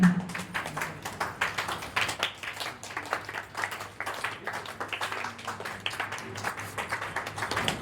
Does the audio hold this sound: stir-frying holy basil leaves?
no